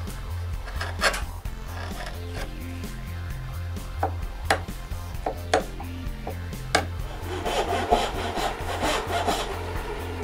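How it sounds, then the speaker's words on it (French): A scroll saw rasps through wood for dresser drawer dovetails in a steady back-and-forth rhythm, with a few sharp clicks and knocks between strokes, close up. "j'ai pas trop de misère à couper le reste droit avec une scie à découper"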